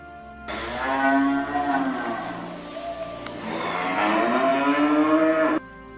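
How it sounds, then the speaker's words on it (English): Cattle mooing, with long drawn-out lowing calls from one or more cows that fill most of the stretch, loud and close, with no talking. "Cows."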